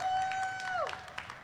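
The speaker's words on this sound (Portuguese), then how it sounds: "Salva de palmas para a nossa querida Juliana aqui com a gente" Scattered audience applause for a speaker taking the stage at a live Brasília event on 3D printing and entrepreneurship, brief claps following a sustained electronic tone that slides downward.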